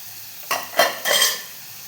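Elephant foot yam roasting in a pan with spice powders, stirred in three close scraping strokes over a light sizzle, with no talking.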